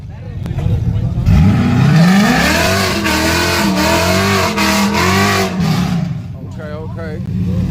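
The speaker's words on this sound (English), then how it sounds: "she like how the car sound" A drag racing car at a Dallas drag strip revs loudly and accelerates, its engine note rising and sweeping up through gears, close and dominant, with crowd voices talking underneath.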